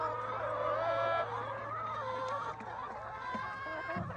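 Chickens cluck and murmur steadily at close range, several birds overlapping, with a low hum running underneath.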